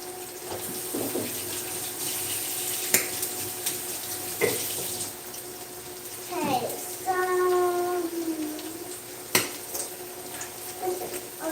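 Hands being washed under a running kitchen tap, a steady close stream of water with splashes and a few sharp clinks and knocks, while a voice talks and a short tonal squeak sounds midway.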